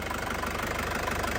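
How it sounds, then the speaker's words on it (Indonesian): A 2003 Isuzu Panther Touring turbo diesel engine idles with a steady, low, even chugging rhythm, heard up close and alone. "Suara mesinnya masih sangat ciri khas, masih pulen ya, masih pulen banget."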